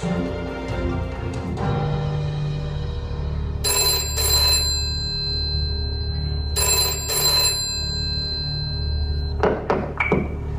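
An old-style telephone bell rings in two long metallic bursts, loud and close, over a steady hum and some thuds and taps at a live science show at a theme park.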